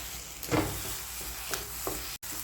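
An egg mixture is stirred as it fries in a pan for an egg roll, giving a steady soft sizzle with a few scraping stir strokes close by.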